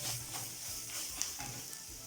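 Tomato paste is mashed into roasted flour in a hot pan, a soft steady sizzle with faint scraping stirs, quiet and close.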